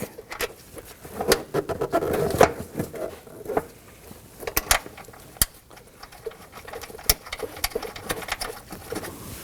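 Bolts go into the windshield washer reservoir of a 2018-2024 Toyota Camry: scattered sharp clicks, ticks and ratcheting taps from a hand tool, close and irregular, with brief scraping and rustling between them and no talking.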